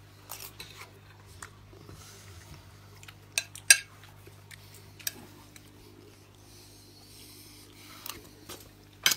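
Cutlery clinks and taps against plates during a home-cooked meal, with sparse, light, irregular knocks over a quiet low hum.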